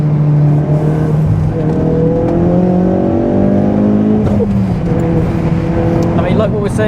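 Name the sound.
530bhp Ford Focus RS accelerating through the gears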